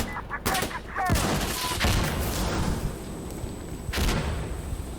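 Bursts of gunfire, explosive booms and sharp bangs from grenades and a flashbang crackle in Insurgency: Sandstorm, with close heavy thumps near the start and end and a lingering high ringing tone between them. Voices speak briefly.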